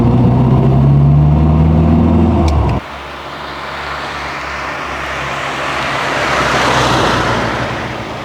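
A big truck passes a 1979 Reliant Robin Super on a narrow road, a loud low engine drone and roar close by that cuts off abruptly, leaving steady road and wind noise from the three-wheeler.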